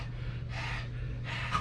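A dog snorts and pants close by, making two breathy, huffing bursts about a second apart over a low background hum.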